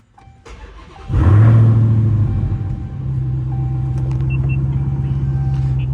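A 2022 Dodge SRT Hellcat Redeye fitted with an AWE Track Edition exhaust cranks and fires with a loud, deep bark, then settles into a steady, heavy rumbling idle, heard from inside the car.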